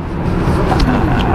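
A car drives past close to a cyclist on a bike ride, a steady broadband road and engine rush that stays loud throughout with no talk.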